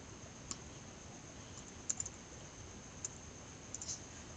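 A few light keystrokes click on a computer keyboard while a search is entered, with sparse, faint taps spread over a quiet background and a small cluster in the middle.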